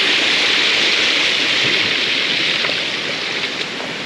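Water rushing steadily over rocks in a stream, a loud, close and constant broadband hiss with no break.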